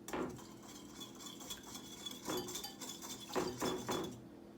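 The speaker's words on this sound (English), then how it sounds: "We're going to give this a little bit of a stir at first, just to incorporate everything." A pumpkin spice latte mixture with vanilla extract stirred in a bowl, a few quiet scattered clinks and scrapes of a utensil against the dish.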